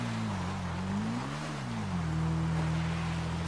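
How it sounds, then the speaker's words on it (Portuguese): Motorcycle in GTA V climbing a steep mountain road, a low engine drone wavering up and down in pitch then settling into a steady, louder hum, close and without voices. "Vou acelerar aqui, ó, que a gente é doido."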